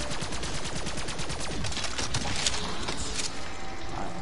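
Rapid automatic gunfire in the Black Ops 3 zombies video game, a dense continuous burst of shots held at steady loudness for several seconds with no talk over it.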